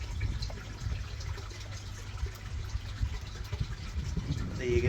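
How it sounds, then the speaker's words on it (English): Water from a shower spraying into a koi pond makes a faint, continuous hiss and patter, partly buried under someone talking nearby. "There you go, nice shower there."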